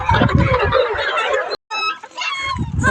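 Several chickens cluck and squawk close by in a busy cluster, with a brief cut partway through before the clucking continues.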